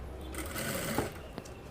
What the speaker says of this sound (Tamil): 1/4 இன்ச் அகலத்தில் தையல் போட்டுக்கலாம்.